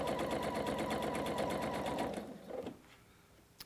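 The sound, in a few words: sewing machine stitching quilt trapezoid units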